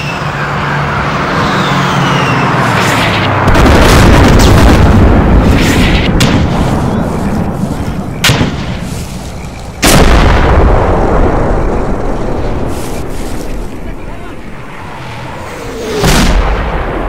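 Mortar explosions in the Arma 2 Unsung Vietnam mod, loud booming blasts and sharp cracks recurring every few seconds over a dense, rumbling battlefield roar, with no voices.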